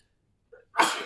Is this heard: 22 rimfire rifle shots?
no